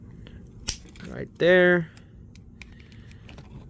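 Short snipping cut into a plastic AHM locomotive chassis, a single close, sharp crunch lasting under half a second, with a voice talking briefly around it.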